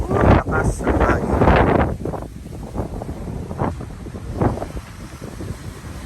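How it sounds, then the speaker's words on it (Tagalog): Strong wind gusting over rice paddies in Pagudpud, Ilocos Norte, roaring in loud blasts against the microphone early on, then easing into softer rushing buffets. "Lakas ang hangin."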